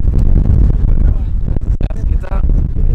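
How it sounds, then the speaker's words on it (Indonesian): Strong wind buffets the microphone on the summit of Mount Agung, a loud, low, rumbling roar that gusts and briefly dips, with a voice faintly mixed into the blast. "Tapi angin kencang banget."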